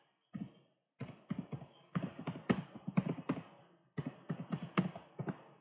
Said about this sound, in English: suppose I type my email address